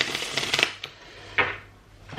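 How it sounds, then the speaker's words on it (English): A deck of tarot cards is shuffled close up: a quick riffle of rapid flutters, then a couple of separate card slaps and a fresh burst of shuffling at the end. "Just gonna give these another quick shuffle because I think I want to use these."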